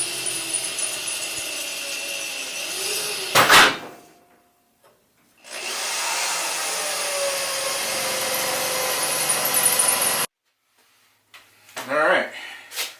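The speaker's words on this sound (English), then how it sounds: "here I'm drilling holes for the rosette welding of the holes into the cross member of the floor" Holes being drilled into the steel floor cross member of a 1931 Ford Model A Sport Coupe during sub rail replacement, two long sustained drilling runs separated by pauses, with brief talk in between.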